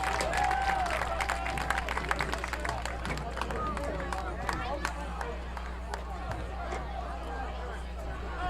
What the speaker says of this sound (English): Let's have another round of applause for both Cornell and the Avella marching band.